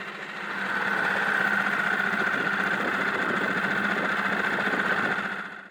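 A small boat outboard motor runs slowly and steadily at low throttle, propeller turning through a rocky passage near Skye's Inner Sound, a close, even drone lasting several seconds with no talk.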